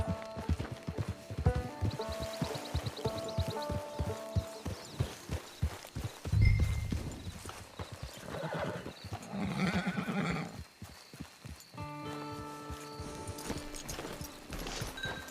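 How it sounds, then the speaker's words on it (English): Horse hooves clip-clop steadily alongside a whinny, with game-style music and ambient effects underneath, from Red Dead Online. "It's your horse."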